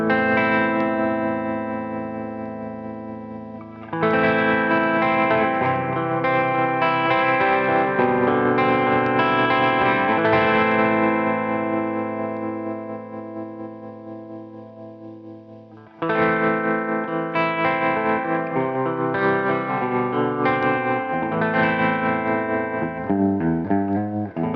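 Electric guitar chords ring through a pulsing Dophix Galileo optical tremolo pedal, the volume wavering rhythmically; one long passage fades down, then a second one starts.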